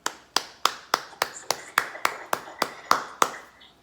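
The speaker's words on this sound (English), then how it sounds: "let's have another big round of applause for Carol." Some eleven evenly spaced, sharp hand claps sound close by at a steady rhythm, like one person or a small group clapping together at a singalong.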